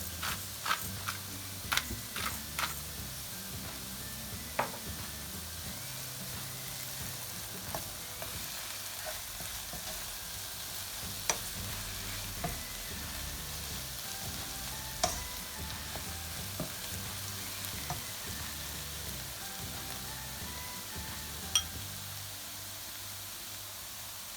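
Garlic and salt fry in a pan with sautéed eggplant, giving a soft continuous sizzle with occasional clicks and scrapes. A low hum sits beneath it, fairly quiet and close, with no speech.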